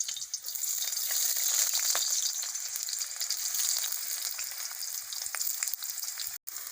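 Onions frying in oil in a wok, a dense continuous sizzle with small crackles and pops, steady and fairly close throughout.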